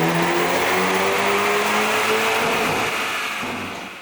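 Hyundai Veloster N running on a dyno with a JB4 tune on map 2 and 91-octane fuel: a loud, sustained engine roar climbing steadily in pitch through a full pull, then easing off near the end, with no talk.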